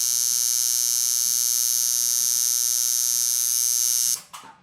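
A tattoo machine runs alone with a steady, high-pitched electric buzz and constant loudness for about four seconds, then switches off abruptly, leaving a short rattle and fading noise.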